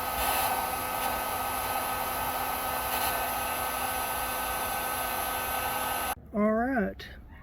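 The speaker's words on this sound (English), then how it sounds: "I'm just taking the heat gun" A heat gun shrinks heat shrink connectors on boat trailer LED light wiring, blowing a steady, loud airy roar for about six seconds before it cuts off and a short burst of voice follows.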